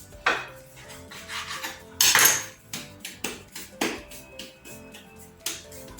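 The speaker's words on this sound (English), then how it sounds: "Use your knife, get a chopping board and cut it." A knife cutting mandazi dough on a chopping board makes a run of sharp, irregular knocks and taps close by, one louder clattering burst in the middle, with no voices.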